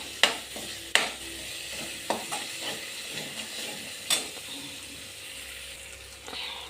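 Spices crackle and sizzle in a thin pan, punctuated by a few sharp scraping clicks of a spoon against metal; no voices.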